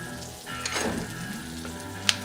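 Pork belly sears in a hot pan, a close, steady sizzle and crackle of rendering fat with a faint tap of utensils near the end.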